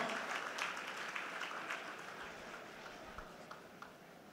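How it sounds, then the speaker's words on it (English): Audience applause at an education event welcoming a speaker to the stage, a steady wash of many hands clapping that fades slightly toward the end, moderately distant in a hall. "A round of applause for our doctor."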